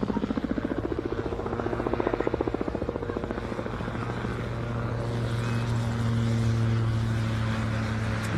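An enclosed-cockpit gyroplane flies at an air show with a steady rotor whump and engine drone, the blade pulses strong at first and then blending into a smoother, fairly distant hum.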